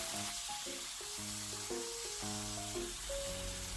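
Mackerel sizzling as it grills in a pan, a soft steady frying hiss under background piano-like music, no talking.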